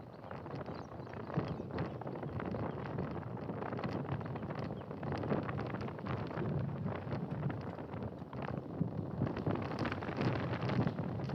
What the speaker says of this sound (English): Now the wind direction has changed.